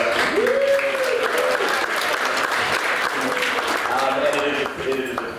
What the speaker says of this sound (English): we'll do the applause first